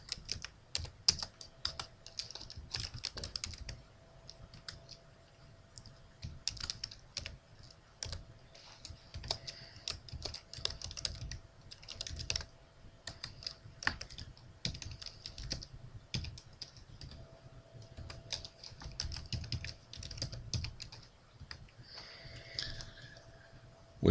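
Fingers tap out information on a computer keyboard in quiet, irregular bursts of close keystrokes with short pauses between runs, alone without talk.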